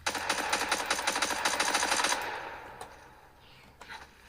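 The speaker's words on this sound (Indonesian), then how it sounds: "kita nembak" Rapid automatic gunfire from an Android mobile shooter game sounds in a fast, dense burst for about two seconds, then fades into a quieter tail with one or two faint later shots.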